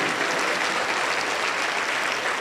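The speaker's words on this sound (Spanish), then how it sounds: "Aplauso para Cristo." A church congregation at a Pentecostal service claps together in dense, loud, continuous applause that fills the room without a pause.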